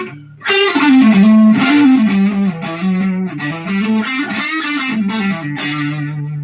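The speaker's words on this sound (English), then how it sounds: "So this is the neck single coil." An electric guitar played alone through a neck single-coil pickup, single notes and short phrases with a bright, slightly gritty tone, close and fairly loud.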